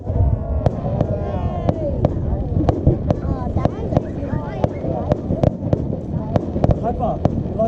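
Fireworks over Mission Bay in Auckland burst as a string of sharp cracks and pops at an uneven rhythm, moderately distant, while nearby spectators chatter over them.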